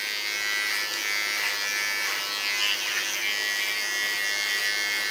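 Hair clipper cuts hair over a comb on a short platinum blonde pixie, giving a steady close buzzing hum throughout with small fluctuations as it moves through the hair.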